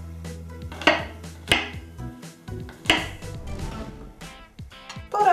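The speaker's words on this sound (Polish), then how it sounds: "Zaczynam od pokrojenia pieczarek." Fresh mushrooms sliced with a knife on a board, a series of sharp separate chops and taps at an uneven pace, close and fairly loud, with no voice.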